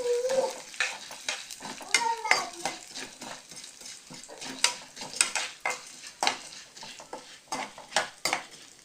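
Radish sautéing in a pan over a medium flame for a radish paste: a soft sizzle under frequent scraping and clinking stirs of a spoon against the pan, close up and irregular, with no voices.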